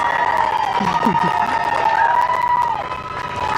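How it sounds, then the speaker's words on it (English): A small crowd cheers and whoops steadily for NASA astronauts Bob Behnken and Doug Hurley as they emerge. The cheering runs continuously at a fairly loud, close level, with a sustained tone running beneath it. "Small crowd, but big cheers."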